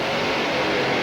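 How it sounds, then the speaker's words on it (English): A drag-racing engine revs hard at an IHRA WinterNationals event in Darlington, SC, where a 1994 Dodge Daytona faces a 1995 Mustang. A dense, rasping roar holds steady and loud for about a second. "Up come the revs with that distinctive rasping rattle."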